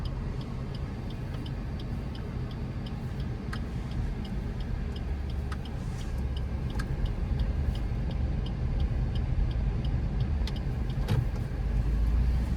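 An AGS automatic car drives along with its turn indicator on, a steady ticking over continuous engine and road noise, close and even throughout with no talking.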